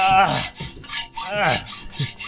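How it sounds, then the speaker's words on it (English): A hacksaw cuts through a meter base pipe in close, rasping strokes, about four back-and-forth pulls in a slow, uneven rhythm. "It's going to take a while with this hacksaw."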